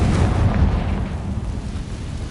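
Confringo fire spell explodes in the video game Hogwarts Legacy, a loud low rumbling blast that holds steady for about two seconds before easing slightly, with no voices.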